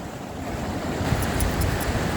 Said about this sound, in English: It's sucking in, and the waves are getting big.